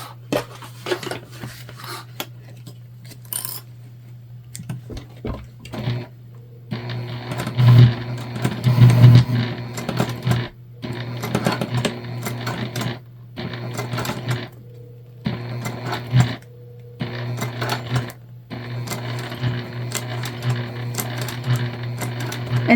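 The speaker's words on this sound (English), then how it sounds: "I'm just taking a little bit of extra time to make sure that we don't skip any stitches on our top stitch" A sewing machine runs in repeated bursts with short pauses between them while topstitching a shoulder bag, slowing over thick layers; a steady low hum continues underneath throughout.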